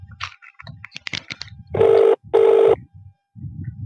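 A telephone rings twice in loud, even bursts with a short gap between them, after quieter background movement and before more low sounds.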